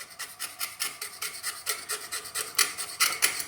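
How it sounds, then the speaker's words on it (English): A blade scrapes plating off trailer lamp wires before soldering, making quick, regular rasping strokes, about four a second, close by and with no talk. "you have to kind of scrape away the plating a little bit to get the solder to stick"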